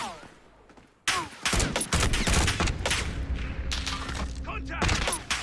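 Gunfire crackles in a firefight in the video game Call of Duty: Warzone, with several sharp bursts and rapid shots spread across the clip, near and fairly loud, with player voices in the background.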